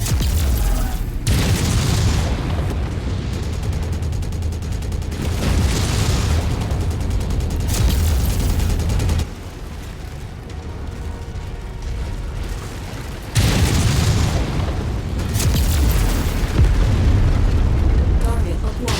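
Video game combat as the city is shot up: loud, heavy booming explosions and gunfire rumble in sustained bursts, dropping briefly to a quieter lull before erupting again, with mechanical clatter mixed in.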